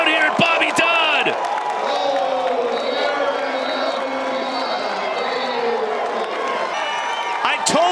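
Crowd cheering and roaring at a men's college lacrosse game between Maryland and Notre Dame at Bobby Dodd, loud and steady throughout with a commentator's voice over the top.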